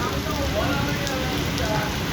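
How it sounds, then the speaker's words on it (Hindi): Steady rain pours down on a street around Abid Market in Lahore, a dense, even hiss that holds at the same level throughout, close and loud. "हो गई है जी बारिश?"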